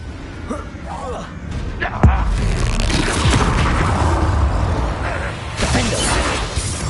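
Confringo blasting spell explosion in Hogwarts Legacy: a sharp boom lands early, then a dense, continuous roar of crashing and shattering combat effects carries on loudly, with another burst toward the end.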